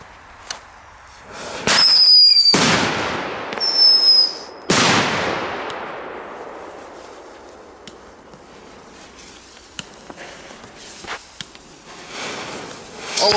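Several loud consumer firework bangs, nitrate-based, burst close by, each sharp crack followed by a long crackling decay, with fainter pops scattered afterward.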